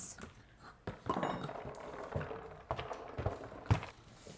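A tray clatters as it is brought to a table where pumpkins are being carved, with irregular close clinks and knocks like dishes and utensils shifting on it, fairly quiet.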